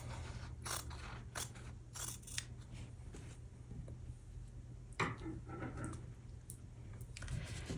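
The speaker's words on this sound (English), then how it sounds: "we're going to cut directly on the diagonal line. It's easiest to just do this with your rotary cutter, but for recording I'm using my scissors." Scissors snip through quilting fabric along a diagonal line, making a few separate crisp cuts spread across the moment with quiet room hum between them, close and clear with no talking.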